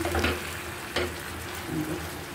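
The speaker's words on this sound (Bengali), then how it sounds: "বরবটিটা কষিয়ে নিচ্ছি, ঢেকে দেবো না, কালার নষ্ট হয়ে যাবে" Yardlong beans sautéing in oil in a fish curry with boal fish, a steady close sizzle with a brief louder stir or clatter midway.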